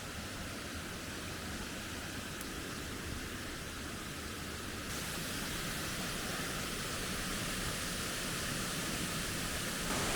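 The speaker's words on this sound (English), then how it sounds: "we've stopped and come up with our first composition, which is a bit of a man-made waterfall. There's this Wier here" Water pours steadily over a man-made weir on Stock Ghyll stream at Ambleside, a close, constant broadband rush with no pauses, alone and without voices.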